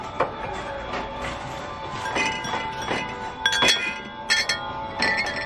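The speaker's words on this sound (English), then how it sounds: "I'm looking through the glasses, seeing if I could find any crystal" Thrift store glassware clinks and chimes repeatedly as glasses are handled and sorted, with bright ringing knocks at irregular intervals, close and clear against a busy store background.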